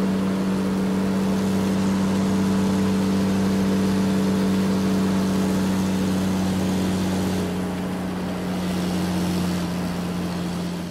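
A red truck's engine in the Roblox game Brookhaven hums steadily with a low, even drone that eases off slightly near the end, with no voices.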